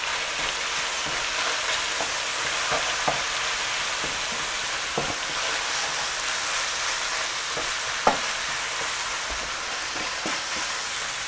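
Sausage and beef browning in a pan for ragu: a steady, loud hiss of frying with occasional light stirring scrapes and clicks, and no talking.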